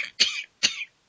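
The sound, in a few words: person coughing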